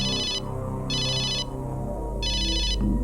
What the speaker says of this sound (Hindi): बार बार फोन आ रहा है।